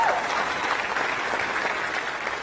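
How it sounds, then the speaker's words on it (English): An audience applauds at the NASA Artemis II crew announcement, a dense, continuous burst of clapping that holds steady throughout and fades slightly at the end. "Yeah, you can clap for that."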